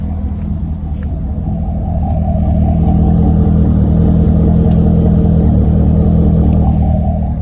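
A deep, throaty exhaust from a Corvette Grand Sport rumbles close by, swelling a little after a couple of seconds and then holding a steady, heavy growl.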